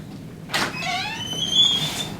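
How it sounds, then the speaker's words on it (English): A house door opens at a dog-training session, with a broad burst of noise followed by a creaky, squealing sweep of hinge-like tones lasting over a second, fairly close and with no talk. "I open the door"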